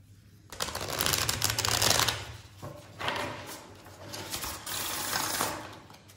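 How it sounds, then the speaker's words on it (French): A deck of playing cards being shuffled at close range, with two bursts of riffling and sliding card noise separated by a short pause, over a steady low hum and no talk. "je vais bien mélanger le paquet"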